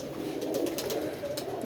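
A Lakha pigeon coos softly close by, its low rolling call steady across the moment, with no talk.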